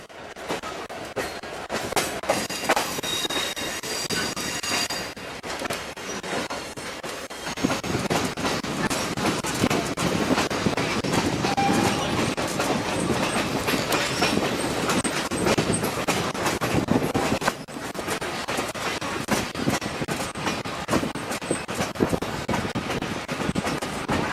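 A passenger train, the City of New Orleans, rides the rails with a loud, continuous rumble and rapid rattling clatter heard from on board, with a brief lull partway through.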